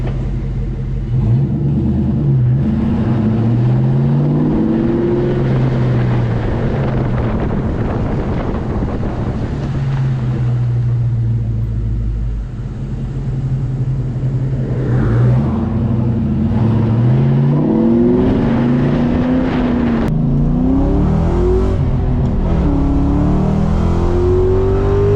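A mostly stock 2003-04 Ford Mustang Mach 1 accelerates on the road, its V8 rising in pitch through repeated upshifts, with wind roar buffeting the microphone and a loud, sustained engine drone.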